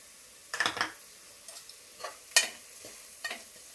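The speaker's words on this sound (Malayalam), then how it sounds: "നന്നായിട്ടൊന്ന് മിക്സ് ചെയ്തിട്ട്" Chili powder, Kashmiri chili powder and chicken masala are stirred in a hot pan with a spoon. The scrapes and clinks come in about five separate bursts over a faint, steady frying sizzle.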